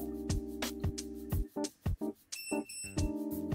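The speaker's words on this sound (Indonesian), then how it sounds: "suara beep tersebut artinya alat mendeteksi adanya baterai yang kita masukkan." A handheld non-contact voltage tester beeps in rapid electronic pulses after batteries are fitted, sharp tones close by with a few brief gaps.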